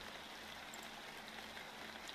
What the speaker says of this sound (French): Non mais écoutez la pluie.